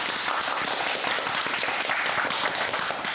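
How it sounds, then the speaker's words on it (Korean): Applause from a studio audience at a Korean Buddhist monk's talk show, a dense, steady crackle of many hands clapping together throughout, fairly quiet. "용기의 박수를 한번 보내주세요."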